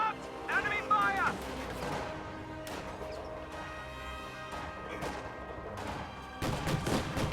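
Infantry squads and a rifle squad trade gunfire in a war strategy video game, with bursts of shots and crashes cutting through a dense battle mix while voices call out over the fighting.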